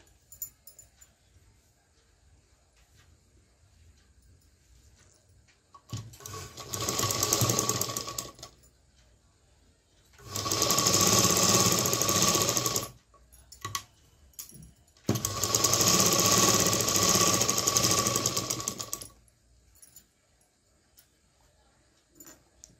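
Sewing machine stitching tucks into a blouse, running in three separate bursts of steady whirring, each a few seconds long, with quiet pauses between them. The sound is close and clear, with no speech.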